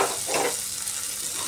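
Shrimp frying lightly in a pan give a steady close sizzle, with a brief louder burst of spatter early on before settling into an even hiss.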